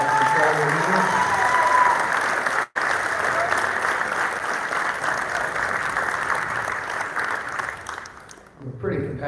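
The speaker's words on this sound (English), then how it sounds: "Let's give a round of applause for" Sustained crowd applause at a high school athletic awards night, loud, dense clapping from a large audience that continues steadily, breaks off for an instant, then thins and fades near the end.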